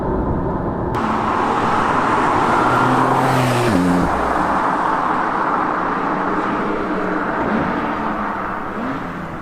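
A Porsche sports car engine hums and builds smoothly as it drives, with a rising whir midway and constant road and cabin noise.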